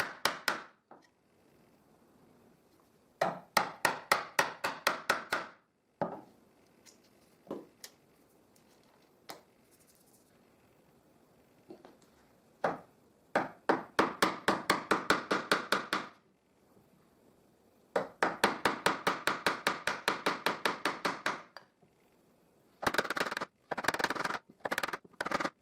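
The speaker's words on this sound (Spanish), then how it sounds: "poco a poco golpeando con la maza voy cortando la madera" A mallet strikes a wood chisel again and again, cutting timber by hand for finger joints; sharp, close knocks come in rapid bursts of about ten blows, separated by pauses and a few single taps.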